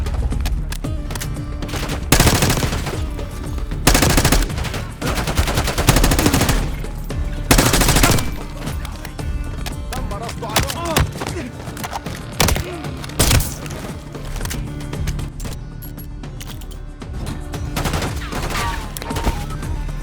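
Sustained automatic gunfire with bursts of rapid shots and heavy impacts fills a firefight in the Call of Duty Black Ops 6 campaign, loud and close throughout, with dense overlapping volleys.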